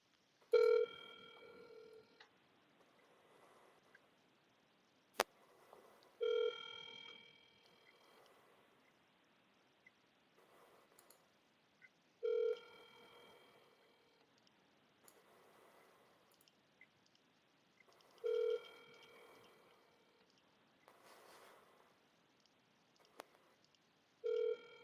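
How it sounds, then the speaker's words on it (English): Recurring phone-line tones over a call: a bright tonal burst roughly every six seconds, like a ringback or dial signal, with quieter tonal keypad-like beeps between bursts and no talking. "let me just dial this number real quick"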